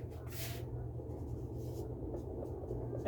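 Pen scratching across paper as an answer is written by hand, giving short bursts of scraping strokes over a low background hum.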